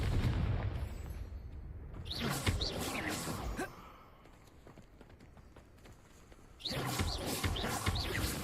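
A Confringo blasting spell explodes in Hogwarts Legacy on PS5 Pro, a loud burst with rumbling debris and crackle, followed by a quieter lull and then another surge of noisy blast and clatter.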